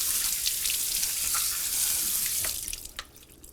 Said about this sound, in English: I'm going to just rinse the outside housing of the filter